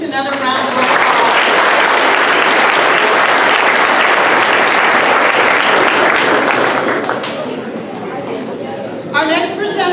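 Sustained applause from a middle school awards audience honoring eighth-grade student winners, loud and dense for about seven seconds before thinning, with a fresh burst near the end.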